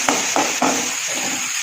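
Onions, small shallots and green chillies sauté in a pan for a tapioca bonda filling, giving a steady close sizzle broken by three quick stirring strokes early on, then an even fry.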